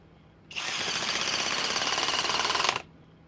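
A hydraulic impact driver runs in one continuous burst of just over two seconds, a loud, dense rattling hammer that starts and stops abruptly against a quiet background.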